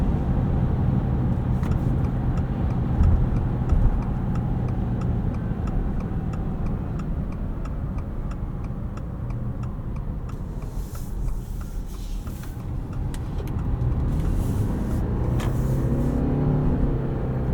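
Cabin of a 2025 Subaru Forester Touring Hybrid on the move, a steady low road and drivetrain rumble with a faint regular ticking, like a turn signal, running alone throughout.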